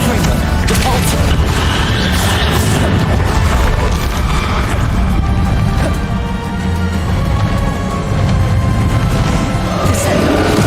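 Hogwarts Legacy combat with Confringo fire blasts and Depulsor force spells: repeated booming impacts and crashing smashes, dense and loud throughout with brief voice bits.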